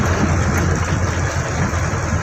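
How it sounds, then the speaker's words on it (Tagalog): Light drizzle falling in thick fog outdoors, a steady close hiss of fine rain mixed with low rumbling background noise, continuous without pauses. "Tapos may kasamang ambon."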